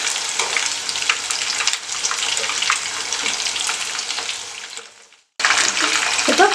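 Chicken fingers fry in oil over a medium flame with a dense, steady crackling sizzle. The sizzle cuts out abruptly for a moment near the end, then returns just as loud.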